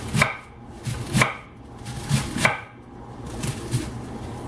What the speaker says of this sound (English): And I'm chopping pretty much any which direction I want to.